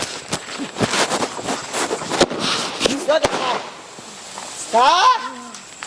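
Sharp firecracker bangs pop repeatedly in a firecracker-bursting contest, some close and loud, while people talk and shout excitedly over them.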